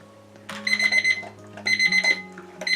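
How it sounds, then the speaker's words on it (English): Kitchen timer alarm ringing in repeated electronic beeping bursts, three rapid chirping pulses close by, each lasting about a second, while baking peanut butter and pumpkin dog treats. "there's the timer. Turn that off"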